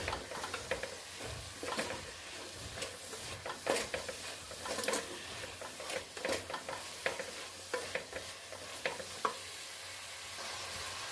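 Ginger paste fries with garlic in a pan for mutton curry, a soft, constant sizzle with frequent irregular scrapes and taps of a stirring spoon, close but fairly quiet, no voices.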